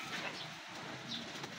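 Racing pigeons being fed and cared for after a derby race near Tagudin, Ilocos, cooing softly and continuously at close range for under two seconds, with no talk.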